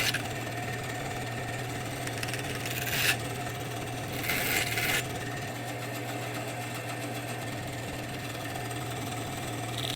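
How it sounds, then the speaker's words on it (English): A bandsaw runs with a steady, even drone while cutting a small piece from a wooden dowel. Two short rasping bursts of the blade biting the wood rise above the constant motor hum. "Since I'm at the bandsaw already, I'm going to cut a small piece of this dowel out to use as the fastener."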